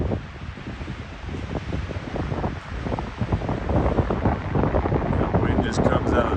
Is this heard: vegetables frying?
no